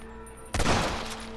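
A single loud gunshot burst from the Red Dead Redemption video game breaks a quiet background, sharp onset then a ringing, decaying tail, no voices.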